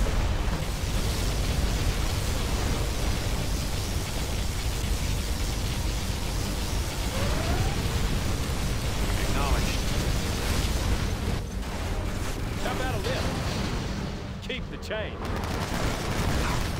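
Continuous dense roar of particle cannon blasts and crackling detonations in a Command & Conquer Generals battle, dense and loud throughout, with brief voice snippets mixed in.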